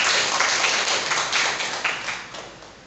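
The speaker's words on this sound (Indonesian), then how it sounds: "Kita boleh tepuk tangan untuk Bunda Salma" Clapping at a school curriculum event or seminar, a close, bright burst of many hands that rises in waves and then gradually tapers off.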